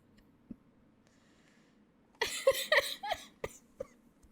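A person coughs in a short burst of several harsh, close coughs following a quiet stretch, with a couple of faint thumps beforehand.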